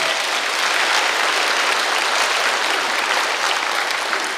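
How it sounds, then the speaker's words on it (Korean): A congregation at a prayer-retreat sermon breaks into loud, continuous applause that fills the hall evenly from start to finish, with no voice heard over it. "박수, 박수, 박수, 박수."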